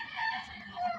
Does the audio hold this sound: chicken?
yes